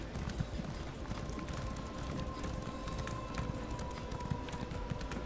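Horse hooves clip-clop in a steady running rhythm inside a video game, moderately loud and continuous over a busy game soundtrack with no talking.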